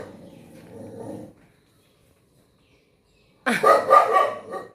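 A dog barks in two bursts separated by a pause of silence, the second louder and harsher, nearby and without speech.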